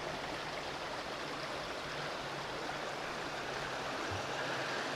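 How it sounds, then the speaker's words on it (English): A creek along the Appalachian Trail rushing steadily over rocks, a dense, even, unbroken watery hiss that sounds close and fairly loud, with no voices. "The creeks are beautiful."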